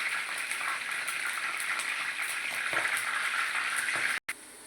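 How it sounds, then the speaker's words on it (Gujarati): Green chillies frying in hot oil, as served alongside onion bhajiya, give a steady, close crackling sizzle with small pops throughout, cut briefly near the end, with no talking. "આ રીતે પહેલાં મરચાં તળી લેવાના ભજીયા જોડે ખાવા માટે"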